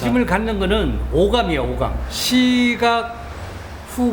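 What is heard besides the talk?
None of the usual background noises is heard.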